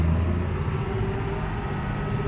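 A tractor engine runs with a steady, loud low drone and a grunt near the start, close by with a continuous hum and no talk.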